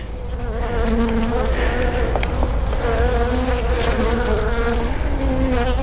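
Honeybees buzz continuously at an open hive during an inspection, a dense, close swarm drone with individual bees rising and falling in pitch.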